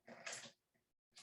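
One person sneezes sharply, then a softer second burst follows after a brief pause, close to the microphone during a math lesson.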